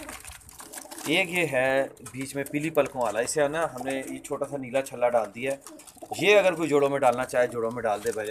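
Domestic pigeons in a loft coo softly in the background while someone talks over them almost throughout.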